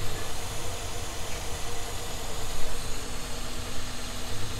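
A Toyota Alphard engine idles with a steady, even hum and hiss, close and loud, with no speech over it.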